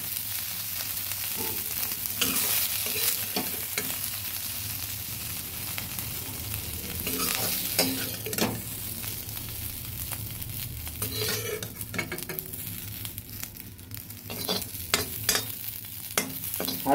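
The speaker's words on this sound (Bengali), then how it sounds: "তাই আমি আঁচটা কমিয়ে সয়াবিনগুলো ভেজে নেব।" Soybeans frying and being stirred in an oiled pan over low heat for chana masala, a soft steady sizzle broken by repeated scraping and clinking of the spoon against the pan, close and fairly quiet.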